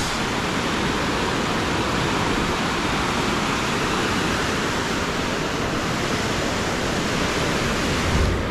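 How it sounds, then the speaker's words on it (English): Loud, steady roar of river rapids along a city riverwalk, a dense continuous rush of churning water with no breaks, close by and alone. "The rapids."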